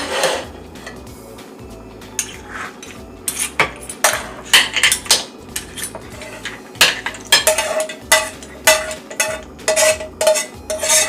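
Spaghetti with clams and vegetables is lifted with metal utensils into a large container, giving irregular clinks and scrapes that grow more frequent and sharper toward the end, with no talking.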